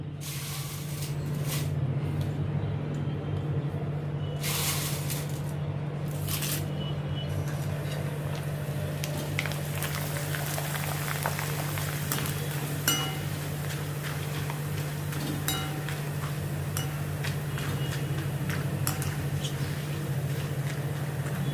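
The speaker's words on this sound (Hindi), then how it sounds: "अभी बाकी के भी सब मैं फ्राई कर लेती हूँ।" Corn poha flakes deep-fry in hot oil for a homemade sweet-and-spicy cornflakes chivda, giving a steady, dense sizzling hiss over a low hum, with a few light clinks near the start.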